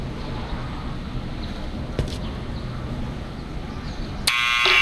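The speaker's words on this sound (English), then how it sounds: "let's, press the buzzer and see who we're gonna talk to here" A door buzzer in the video game Back to the Future: The Game sounds near the end as a sudden loud, harsh electric buzz, following several seconds of quiet ambient hum.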